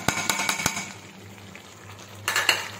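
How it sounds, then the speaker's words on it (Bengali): Spice masala for chicken rezala, with Kashmiri chilli powder, salt and turmeric, being stirred and sautéed in a pan: a few sharp utensil scrapes and clanks over a low, steady background, then a brief louder burst of clatter. "এবার এটাকে ভালো করে কষাবো"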